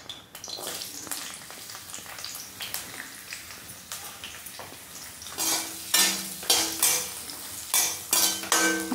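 Carrots hit hot oil in a pan, sizzling and crackling, with repeated scraping and clinking of a utensil stirring against the pan, growing louder and more rhythmic toward the end.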